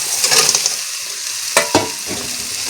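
Crab pieces dropped into frying masala and stirred, a bright sizzle with a few sharp clattering knocks of spoon against pan, close and loud with no voices.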